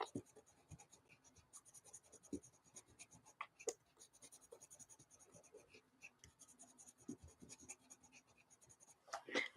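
Colored pencil scratching across paper in short, irregular strokes, quiet and close, with light handling sounds and no talk.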